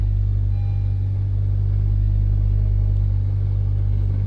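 A car's engine runs at a steady idle just after starting, a constant close low hum with no change in pitch or level.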